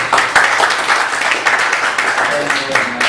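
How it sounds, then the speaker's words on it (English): Audience applause at an academic bioethics tribute to Professor Engelhardt, a dense, close round of clapping that holds steady for a few seconds with a voice starting near the end. "Give him big applause."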